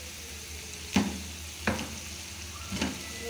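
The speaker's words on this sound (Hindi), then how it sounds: "डाल दिए हैं फ्राई होने के लिए।" Potato finger chips deep frying in hot oil, giving a steady low sizzle with three sharp knocks spaced apart, close and fairly quiet, with no voices.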